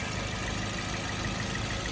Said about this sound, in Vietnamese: Đây ạ, máy nổ rất êm và khô